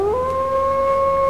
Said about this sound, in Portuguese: quando novamente ouviu um uivo